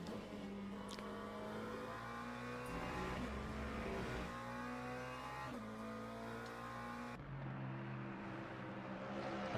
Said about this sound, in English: And he is absolutely roaring right now, is Ballas.